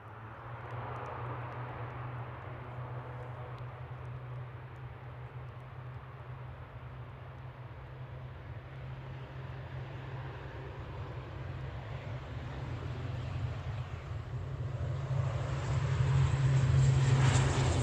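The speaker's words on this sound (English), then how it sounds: "Two aircraft on approach." Aircraft on approach at Manchester Airport at night, a distant low engine drone with a steady hum that swells louder toward the end as it comes nearer.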